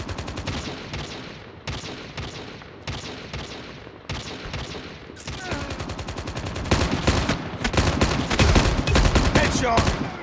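Rapid gunfire in the mobile shooter Call of Duty Mobile, repeated loud bursts of automatic fire in clusters that grow denser toward the end, with no talk.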